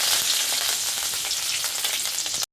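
Mustard seeds, dried red chillies and curry leaves crackle and fry in hot oil for a mango pickle tempering, a steady dense sizzle that cuts off abruptly near the end.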